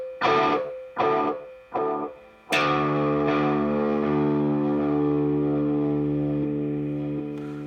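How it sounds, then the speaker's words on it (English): Three short distorted guitar notes repeat in quick succession, then a loud gritty chord rings out with a long, fuzzy distorted delay tail that slowly fades. "Now, if I distort the delays"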